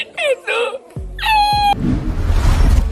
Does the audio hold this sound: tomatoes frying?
no